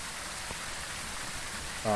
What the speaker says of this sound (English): The rain or the weather outside will affect the initial temperatures inside.